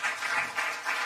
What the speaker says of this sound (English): please give a warm round of applause for David Evans.